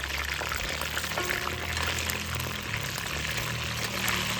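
Chicken pieces half-frying in oil for biryani give a steady, even sizzle and crackle that holds close and constant throughout.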